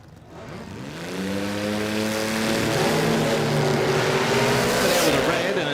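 Race car with an Ecotec engine revving hard during qualifying at a drag raceway, a loud, steady rising engine note that builds in the first second and holds, with a voice talking over it.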